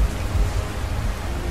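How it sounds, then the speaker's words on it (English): Rain pours down hard in a steady, dense hiss with a deep, uneven low rumble beneath it, and no one speaks. "Pouring skies."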